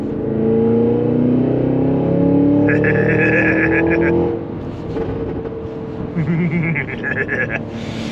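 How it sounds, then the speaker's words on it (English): A 2023 Cadillac Escalade V's supercharged engine revs up, a loud sustained roar with rising whine that holds for about four seconds, then drops back to a rougher idle with another brief blip. "And then I'll give it a little gas here. You may be able to hear the supercharger whine in the other GoPro"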